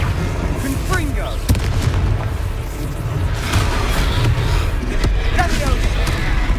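A Confringo fire spell blasts in Hogwarts Legacy during a fight, its explosive bursts rising out of a dense, continuous wash of game combat sound, with a couple of sharper booms standing out.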